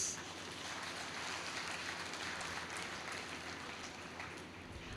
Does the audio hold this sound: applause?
yes